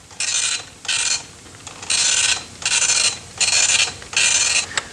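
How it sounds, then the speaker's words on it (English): A microcomputer printer printing out a script, its head making six loud rasping mechanical passes in a steady rhythm, each under a second long and separated by short pauses, with no voices. "also on the printer over here"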